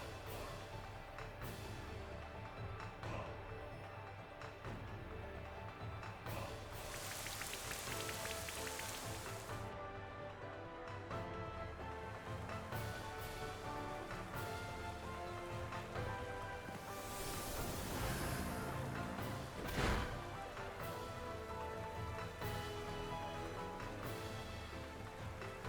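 Steady rain pours across the whole stretch from the Rain Dance move in Pokémon Sword and Shield, a dense hiss of falling drops with game music layered underneath and a brief louder swell near the end.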